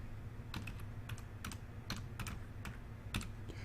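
Typing on a computer keyboard, a quiet close series of light, irregular key clicks arriving in short bursts over low background hum.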